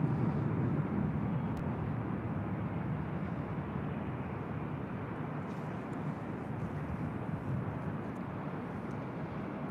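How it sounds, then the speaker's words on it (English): A Southwest Airlines Boeing 737-800 arriving at LAX from Las Vegas gives a steady, fairly distant broadband jet roar that holds evenly for about ten seconds, with no one talking. "Next arrival here on the north side is Southwest Airlines Flight 1797 coming in from Las Vegas, Nevada on a 737-800."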